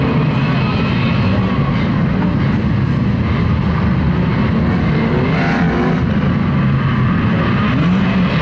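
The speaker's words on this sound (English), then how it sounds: "Six cars out there on the raceway then." Six 1500 National Banger race cars roar around the Kings Lynn raceway, a dense, continuous engine din from several vehicles at once, loud and sustained throughout with no clear gaps.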